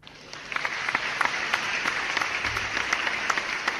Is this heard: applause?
yes